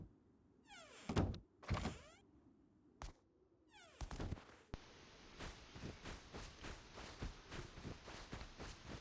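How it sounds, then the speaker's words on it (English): A door in the survival game Rust swings open, preceded by sharp whooshing sweeps and knocks, then a steady run of rapid rhythmic clicks and thumps, fairly quiet with no talking. "see here how this door opens in, that acts as an airlock"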